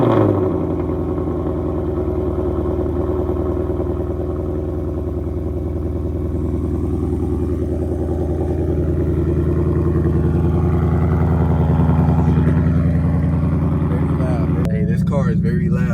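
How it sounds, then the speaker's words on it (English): A loud car engine drones and rumbles close by in a steady, heavy roar while an aero kit and underglow are fitted, with a person talking over the noise throughout. "Car is very loud."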